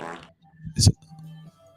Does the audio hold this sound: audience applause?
no